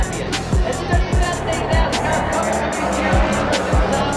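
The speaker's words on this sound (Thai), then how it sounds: "เบอร์22ตอนนี้เบิร์นยางอยู่นะ" NASCAR race car number 22 doing a tire burnout at the Los Angeles Coliseum, a loud continuous roar with engine surges and repeated low thumps under crowd noise.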